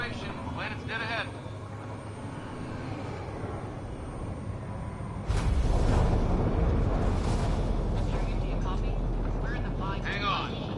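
A spacecraft begins atmospheric entry in the video game Mass Effect Andromeda, a broad rumbling roar that swells suddenly midway and holds loud, with voices talking over it.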